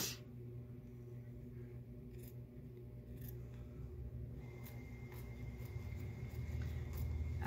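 Scissors snip through fabric and quilt batting in a few quiet, separate cuts against a soft, steady background hum.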